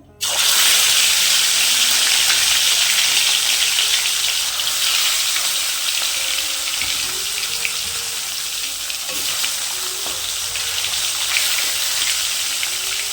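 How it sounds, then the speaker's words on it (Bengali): Fish pieces, snakehead among them, frying in hot oil in a home kitchen give a steady, loud, close sizzle that holds evenly throughout with faint crackles and no voices. "তেল গরম হয়ে গেছে, এবারে একে একে মাছগুলো দিয়ে দেবো।"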